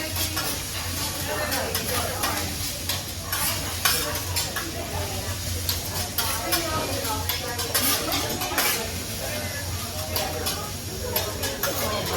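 Fried rice cooking on a hibachi grill with butter and soy sauce, a loud continuous sizzle under rapid metal spatula scraping and clacks, with people talking over it.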